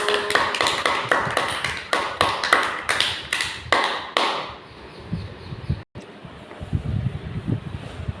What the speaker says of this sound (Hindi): अब सब मिलकर ताली बजाओ।